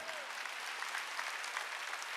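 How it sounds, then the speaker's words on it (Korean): A church congregation applauds during a Sunday worship service, a steady, dense clapping that carries evenly from start to finish without pause. "빨리 박수 치라고."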